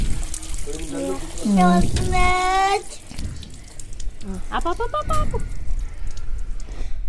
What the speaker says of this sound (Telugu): ఎంత చక్కగా స్నానం ఆ అమ్మాయే పోస్తుంది నీళ్ళు